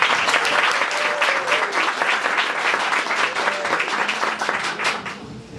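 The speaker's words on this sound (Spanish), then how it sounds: "un aplauso para Consuelo" Audience at a literary conversation event applauding a guest named Consuelo, loud, close crowd clapping with distinct individual claps audible in a continuous, lively burst.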